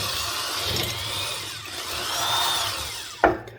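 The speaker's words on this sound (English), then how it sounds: "twist it while I'm drilling through it" A power drill bores through the bushing housing of a vintage box fan motor, its whine rising and falling steadily at close range before a sharp knock near the end.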